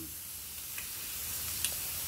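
Bacon frying on an outdoor barbecue gives a steady, fairly quiet close sizzle with a couple of faint pops, and no one is speaking.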